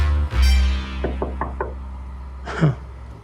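Knocking on a door: a quick series of about four or five raps in a row, fairly close and moderately loud, after a low thud, with a brief murmur of voice near the end.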